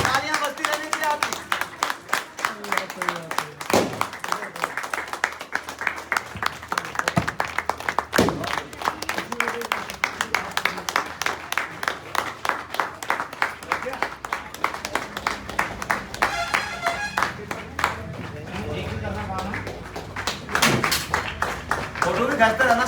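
An audience at a wellness store franchise opening in Haldwani claps rhythmically and steadily for a long stretch, loud and near, with a voice speaking over the clapping at times.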